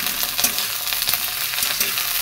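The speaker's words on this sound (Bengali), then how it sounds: "গ্যাসটা ফ্লেমটা একটু মিডিয়াম টু হাই করে রেখে এগুলোকে আমি ভাজতে দেবো" Pieces of onion fry in oil in a pan over medium-high flame, giving a steady, dense sizzle with small pops and no talk.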